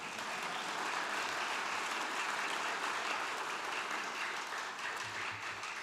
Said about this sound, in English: You can applaud to that, that's fine.